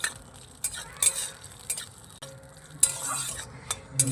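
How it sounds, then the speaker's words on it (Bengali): Cashews and raisins fry in a pan under a quiet sizzle, with intermittent spoon scrapes and clicks against the pan as they are stirred. "কাজু কিশমিশটা ভালো করে আমি ভেজে নেব"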